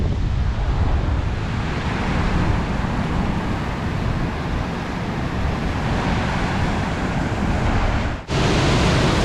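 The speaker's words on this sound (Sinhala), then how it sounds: "මේ වැඩෙන්නේ සුන්දර 11 වෙනි ඇල්ල බොමුරු ඇලි දාමේ." Steady roar of rushing water from the eleventh falls of the Bomuru waterfall chain, a dense continuous wash that stays loud throughout, with a brief dip near the end.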